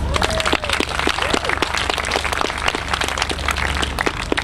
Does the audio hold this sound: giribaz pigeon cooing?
no